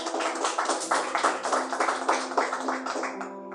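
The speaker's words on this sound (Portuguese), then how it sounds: "Palmas para Jesus, irmãos" A church congregation claps together in a steady, rhythmic beat, the claps near and fairly loud with a sustained tone or voice beneath them throughout.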